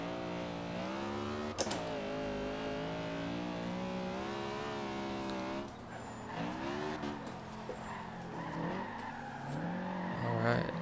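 Honda Civic Type R with a drift build in Forza Horizon 2, losing traction, with a revving engine whose pitch rises and falls, tire squeal, and skidding, continuous under a voice talking.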